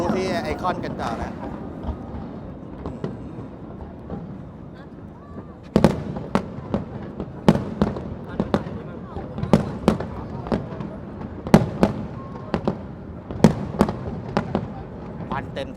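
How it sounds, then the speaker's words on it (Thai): New Year fireworks burst over ICONSIAM in Bangkok, a rapid series of sharp booms and crackles spaced across the sky, preceded by a quieter stretch of crowd murmur; voices talk underneath throughout. "มาดูพลุที่ไอคอนกันต่อนะ"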